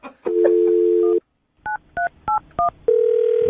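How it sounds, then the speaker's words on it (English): A telephone is dialed: a steady dial tone, a short silence, then four distinct touch-tone beeps in a quick even rhythm, ending in another continuous tone. "I'm going to dial the phone number right now"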